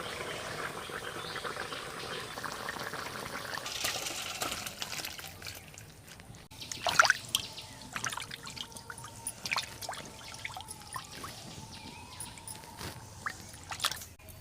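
Starchy water is drained off freshly cooked rice from a pot, a faint trickling and dripping pour with a few sharper splashes and drips, quiet and close, with light background noise and no talk.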